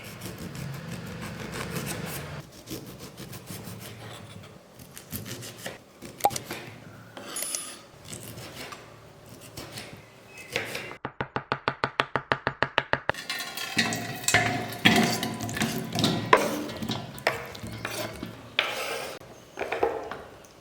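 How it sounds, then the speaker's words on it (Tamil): A knife cuts white lemons into small pieces for Kerala-style pickle, producing repeated close chopping taps and scraping on a board, including a fast even run of cuts midway. "இதை வந்துட்டு சின்ன சின்ன பீசஸாக நம்ம கட் பண்ணி எடுத்துக்கலாம்"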